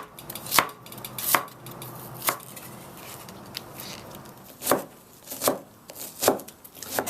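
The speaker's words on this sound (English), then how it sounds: "Now I'm chopping the ginger." A knife chops ginger on a cutting board for Tibetan vegetable fried pies, giving sharp, irregular close-up knocks spaced about a second apart over a soft kitchen background.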